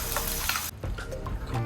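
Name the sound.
tomato puree added to a hot pan, sizzling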